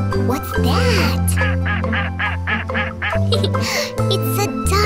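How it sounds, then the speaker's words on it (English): A cartoon duck in a children's animated forest scene quacks repeatedly in a lively string of nasal calls, loud and close, over a steady background music bed. "It's a duck!"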